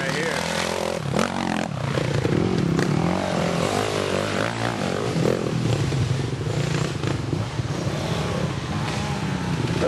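A KTM motorcycle racing past at a team race, its engine a loud, steady droning roar that holds throughout, mixed with crowd and track noise and a commentator talking over it.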